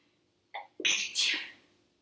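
A single loud, close sneeze: a short sharp intake of breath, then an explosive burst that trails off.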